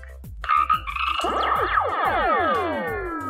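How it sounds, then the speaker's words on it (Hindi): Cartoon frog croaking in a children's lesson segment, a run of rhythmic low croaks joined by a bright descending chiming flourish, fairly loud and close with no talk. "मेंढक कितना खुश है।"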